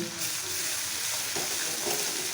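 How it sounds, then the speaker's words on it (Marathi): Ginger, garlic, coriander and cumin paste fries in hot oil with asafoetida in a pan, a steady close sizzle with a few soft stirring scrapes and no talking. "आता हिचा कच्चेपणा जाईपर्यंत आपल्याला तेला चांगली परतून घ्यायची आहे"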